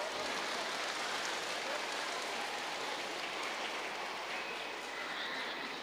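Applause from an audience at a church cultural program after a children's action song, heard as a steady broadband patter of many hands, continuous and fairly even throughout without distinct individual claps.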